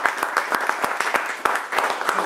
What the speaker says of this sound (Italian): E quindi un applauso ai nostri attori.